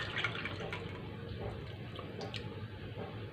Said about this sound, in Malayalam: ഞാനിപ്പോൾ അതിലോട്ട് ആ സ്റ്റോക്ക് അളന്ന് മാറ്റി വെച്ചിരുന്ന സ്റ്റോക്കിൽ ആദ്യം 1 കപ്പ് സ്റ്റോക്ക് ഒഴിച്ചു കൊടുത്തു.